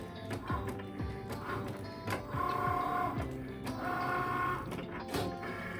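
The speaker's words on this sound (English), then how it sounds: "So now the Cricut is just gonna go ahead and it's gonna do its job." A Cricut cutting machine cuts lettering from heat transfer vinyl, giving close whirring motor bursts that start and stop in a repeating rhythm, with soft knocks as the carriage moves.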